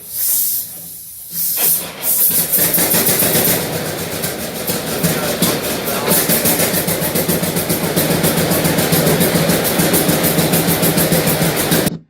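A 1938 John Deere G tractor engine fires up after a brief cranking, settling into a loud, steady rapid chugging with a hissing exhaust that continues right up close.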